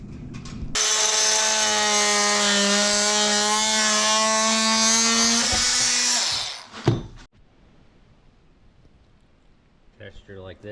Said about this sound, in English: so I'm just going to cut down this end.